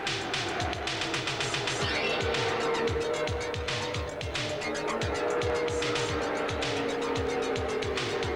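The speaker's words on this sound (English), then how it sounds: "The crowd roars as the cars move through turn 4 and onto the straightaway." Indianapolis 500 race cars from the 1989 race roar through turn four onto the straightaway, a dense continuous engine scream with rapid repeated pitch sweeps as cars pass close by, loud and steady without talk.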